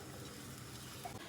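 Grated coconut roasting in a dry frying pan (cheenachatti) for a Kerala tapioca and chickpea curry, giving a faint, steady low sizzle with soft stirring scrapes throughout.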